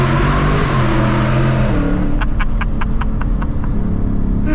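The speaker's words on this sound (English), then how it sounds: "Downshift with tunnels and long tube headers on a Mustang." A Ford Mustang S650 fitted with long tube headers drones loudly inside a tunnel. Midway a downshift brings a quick run of sharp, evenly spaced exhaust pops over the constant engine rumble, with no talking.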